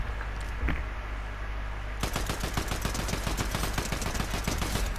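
Rapid automatic fire from an assault rifle shot from the hip with a hip-fire mod in a war video game, a loud sustained burst of evenly spaced shots after a brief quiet lead-in.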